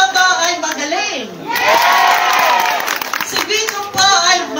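At a house-to-house campaign caucus for Mayor Vico Sotto in Pasig, a crowd bursts into loud clapping and cheering, rising after a brief voice, holding strongly, then fading and flaring again.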